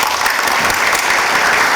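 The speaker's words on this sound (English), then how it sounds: "let us give an applause to our speakers" An audience at an investment conference applauds its speakers, with thick, continuous clapping from many hands filling the room at an even level.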